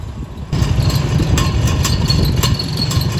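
Tractor engine idling close up, a steady low chugging rumble with a few faint clicks and rattles over it, no voices.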